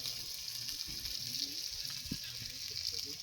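Ingredients for a goat intestine gravy fry in oil in a pan, producing a constant moderate sizzle with occasional stirring scrapes close by.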